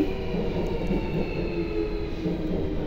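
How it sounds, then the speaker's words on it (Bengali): A train pulls into a station in Korea with a steady low rumble and rattling wheels that stay at a fairly even, moderate level, with no voices. "চলে আসছে আমার ট্রেন"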